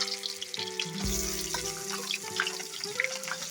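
Chopped onions hit hot oil with cumin for a country-chicken curry, giving a steady hissing sizzle like running water, with faint ringing tones over it.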